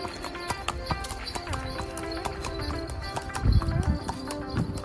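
Horse hooves clip-clop in a steady rhythm during a ride at an elephant camp, close and clear, with a few heavier thuds near the end and some faint background talk.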